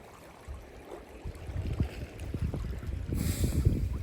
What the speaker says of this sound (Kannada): ಆ ನೀರಿನ ಶಬ್ದ, ಅಲೆಗಳ ಶಬ್ದ